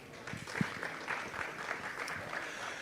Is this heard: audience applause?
yes